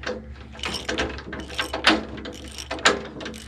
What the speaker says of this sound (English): So I just need to find the hand crank and see if we can't get that thing raised up.